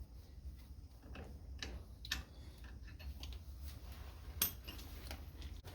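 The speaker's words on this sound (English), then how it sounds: "I got my torque wrench set up at 150 foot-pounds of torque" A torque wrench set to 150 foot-pounds clicks while tightening wheel spacer bolts on a Kubota L3901 tractor, faint irregular ratchet ticks over a low steady outdoor rumble.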